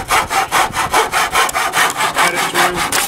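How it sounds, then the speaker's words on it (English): A handsaw cuts through a wooden fence panel in a fast, even back-and-forth rhythm of about a dozen loud, rasping strokes close by, with no voices. "You just line up on the handsaw,"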